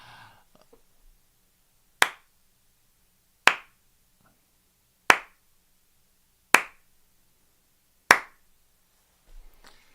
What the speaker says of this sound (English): That is the best sarcastic slow clap that I can muster right now for you, Florida.